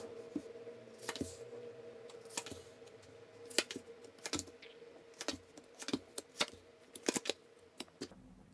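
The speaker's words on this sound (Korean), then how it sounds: "마음 편하게 가지시고 잠시 심호흡 하시는 동안 제가 카드 뽑아볼게요" Tarot cards are drawn and shuffled during a reading, producing sharp, irregular paper flicks and taps that are close but fairly quiet. They come in uneven clusters over a faint steady hum, with no talk.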